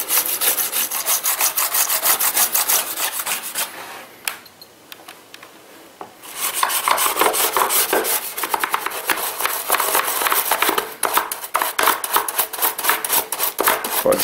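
Wet brush scrubbing a PC keyboard, a loud, close, continuous rasping back-and-forth scrub with rapid strokes, pausing briefly partway through before resuming, with no talking.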